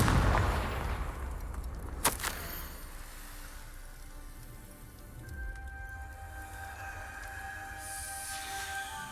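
A Confringo fire spell cast in the Hogwarts Legacy video game bursts out as one sharp, loud blast about two seconds in, then fades into a steady low game ambience with a thin sustained tone.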